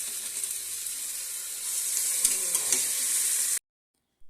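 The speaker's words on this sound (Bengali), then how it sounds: "এবারে আমি দিয়ে দিচ্ছি চিকেনগুলো সব দিয়ে এবারে আমি একটু ওটাকেও কষিয়ে নেব।" Chicken pieces sauté in a pan for chicken stew, giving a loud, continuous sizzle with a few scraping stirs, then cutting off abruptly to silence near the end.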